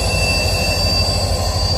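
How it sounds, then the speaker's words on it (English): Freight train rolling through a rail yard, a loud continuous rumble of wagons with steady high wheel squeal, close by and alone with no voices. "Whoever's waiting for this fucking train to come fucking through there."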